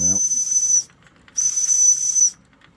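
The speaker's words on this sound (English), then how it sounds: "I'm getting a nice clean whistle" A Wilesco D406 toy steam roller lets out two clean, shrill steam whistle blasts of about a second each, separated by a short pause, loud and close.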